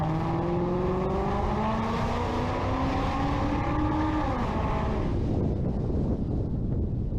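A Ford Mustang speeds through city streets, its engine rising steadily in pitch as it accelerates hard before the note drops away into rushing wind and road noise.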